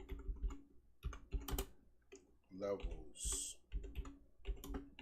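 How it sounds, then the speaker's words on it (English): Computer keyboard typing in bursts of clicks, moderately close, interleaved with someone talking over it throughout. "Let's type that in."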